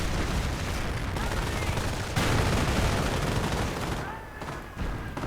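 Machine guns mounted on Panzer tanks fire in a World War II strategy game, a dense, continuous rattle of gunfire layered with other battle noise that thins out toward the end.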